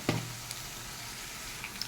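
Onion fries in a pan with a continuous near sizzle, opened by a sharp clatter of a utensil and followed by a few light taps.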